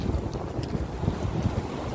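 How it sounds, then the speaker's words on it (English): Strong wind buffets the microphone outdoors in steady gusting rumbles and hiss, with no talk over it. "It's very windy here today."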